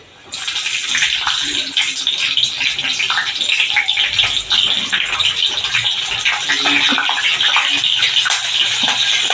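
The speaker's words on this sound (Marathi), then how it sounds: "आता तेल तापलेलं आहे. प्रथम त्याच्यात मिरचीचे तुकडे घालणार आहोत." Green chili pieces dropped into hot oil already crackling with cumin seeds, giving a steady loud sizzle and spatter that runs the whole time with no talk over it.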